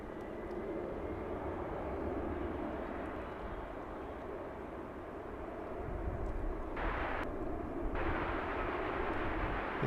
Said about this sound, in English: This is Kenya Airways flight 100, about to touch down from Nairobi.